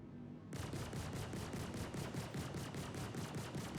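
Ship cannons on a Valkyrie dropship in Star Citizen fire a steady rapid burst, loud and continuous after a brief quiet lead-in, with a dense rhythmic hammering and no voices.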